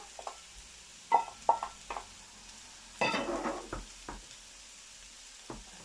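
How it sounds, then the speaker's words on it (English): Coconut milk poured into simmering Sri Lankan parippu dal curry, with scattered spoon taps and stirring clatter and a short burst of sizzling bubbling in the middle, close by and without talk. "I will put the coconut milk now."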